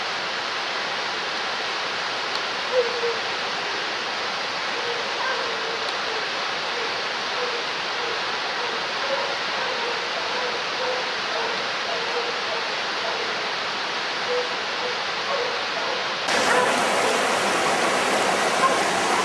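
Rushing river water, a continuous broadband roar that stays steady and fairly loud throughout, getting slightly harsher near the end, with no talking.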